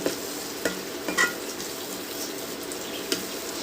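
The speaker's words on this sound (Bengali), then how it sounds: "মশলাটা আমি ভালো করে কষিয়ে নেবো" Spice masala for dhaba-style egg curry sizzles and fries in a pan with a little water added as it is stirred, giving a steady close hiss with occasional scraping clicks.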